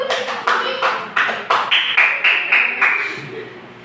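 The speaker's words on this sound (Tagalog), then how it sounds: "Bigyan lang yung sarili na tatlong palakpak." Roughly eight sharp group claps in a steady rhythm, fairly loud and close, with a sustained ringing tone emerging partway through in a Filipino classroom setting.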